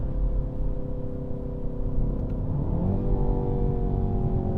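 A 2019 BMW X2 M35i engine drones steadily, then its pitch drops and shifts as it downshifts, a continuous close mechanical hum with no voices.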